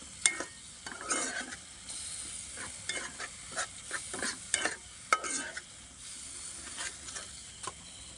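Food fries in a pan with a steady hiss and sizzle, while repeated stirring and scraping strokes come through close to the microphone throughout, with no speech.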